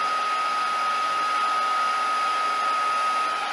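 A hair dryer blows steadily on paper towel sunflowers cut with a rustic sunflower die, a close, continuous whine and airy rush with no pauses.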